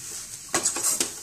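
A spoon scrapes and clinks against a pan while besan batter is stirred in an Indian kitchen, a few short metallic taps and scrapes, close and fairly quiet.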